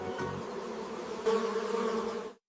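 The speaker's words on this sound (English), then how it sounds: "These are bees." Honey bees buzz close by in a steady, droning hum that swells slightly louder partway through, then cuts off abruptly at the end.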